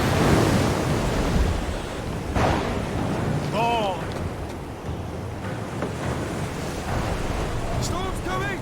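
Stormy sea surf crashes and rolls under gusting wind in a loud, continuous wash, with brief higher cries or creaks breaking through partway and near the end.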